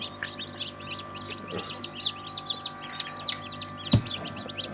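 Newly hatched local (desi) chicks peep inside an incubator, a dense, continuous chorus of high chirps with a brief knock partway through.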